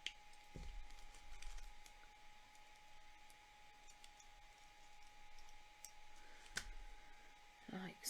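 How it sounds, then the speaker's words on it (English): Wire cutters snip the excess wire ends off a wire-wrapped spider brooch. Two crisp, quiet clicks stand apart over a soft hiss, with a person talking in the background. "let's trim those bits off"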